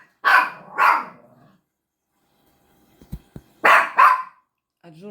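A dog indoors barks loudly and close in two quick pairs of sharp barks separated by a quiet pause with a few soft thumps, alone without talk.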